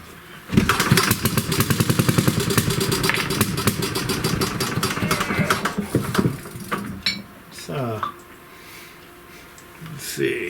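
1937 Briggs and Stratton Model A engine with a primitive carburetor, popping and chugging loudly in a rapid irregular rhythm close by, then faltering and sputtering to a stop with clanks afterward.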